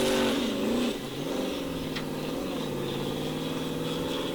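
A Formula Offroad race car called The Bomb revs hard at the start, then settles into a loud, steady, droning engine note with wavering pitch as it works through the course.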